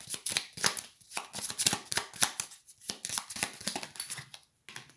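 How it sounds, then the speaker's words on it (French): Tarot cards shuffled and handled at close range, a rapid, busy run of papery flicks, riffles and slaps that continues almost without pause for several seconds. "Et puis, on va prendre 3 cartes."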